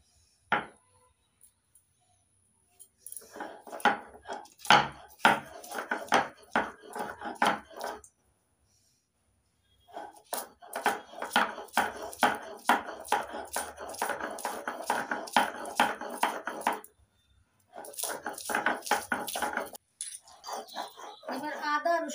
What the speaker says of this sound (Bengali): এবার আদা, রসুন আর কাঁচা লঙ্কা বেটে নেব।